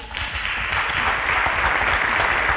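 Steady, dense applause from an audience at a school quiz competition between secondary school teams in Abuja, even and sustained throughout at moderate loudness with no speech.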